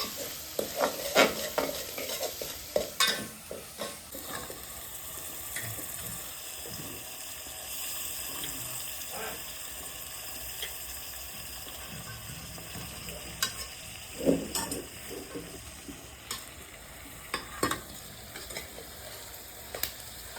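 Capsicum stirred into a hot frying pan in a home kitchen, with a steady low sizzle and repeated scraping stir strokes near the microphone, plus occasional clinks and a brief trickle of water, no talking.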